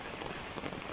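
Dense, steady rain from a typhoon patters on a hard surface close by, a continuous wash of drops with no voices.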